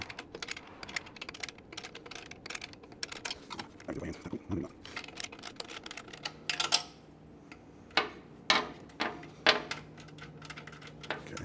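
Metal clicks and ticks of a closed-end wrench working loose an exhaust bolt on a 2024 Triumph Bonneville Bobber, a scattered run of small sharp taps growing into several louder clicks near the end, with a faint hum beneath.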